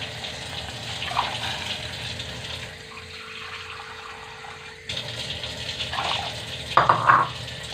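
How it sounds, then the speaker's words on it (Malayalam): Water streams and splashes into a vessel holding an arrowroot flour mixture, a steady gushing pour that briefly drops off, then resumes with louder sloshing toward the end. "കുറച്ച് വെള്ളം ഒഴിച്ചു കൊടുക്കണം."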